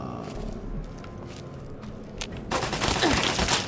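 Turret gunfire in Fallout: Tale of Two Wastelands, with scattered distant shots that build into a loud, rapid sustained burst toward the end.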